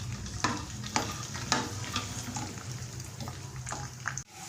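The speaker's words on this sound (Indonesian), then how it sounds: "sekarang kita mau goreng si bawangnya" Shallots frying in a pan of oil heated over medium flame, with a steady close sizzle and bubbling broken by several sharp stirring scrapes, ending in a brief drop-off.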